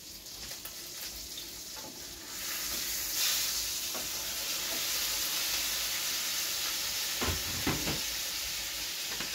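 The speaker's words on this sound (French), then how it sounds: "Attendez, je retourne ma viande." Meat fries in a pan in a home kitchen, a steady loud sizzle with a few scraping knocks as it is turned over, and no talking.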